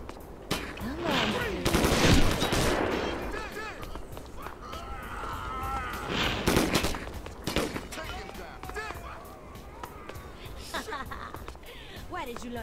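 Gunfire from the video game 25 to Life: loud bursts of shots, including rapid automatic volleys, ring out repeatedly over a busy game soundscape. Voices talk throughout.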